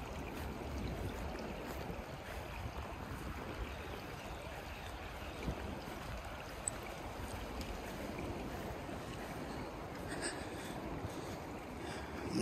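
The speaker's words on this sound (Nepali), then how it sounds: "ठुलो खोला रहेछ यतापट्टि सरल बगिरहेको" A large river flowing through a forest gives a continuous, even rushing wash of water, heard from a little distance and fairly faint, with no voices over it.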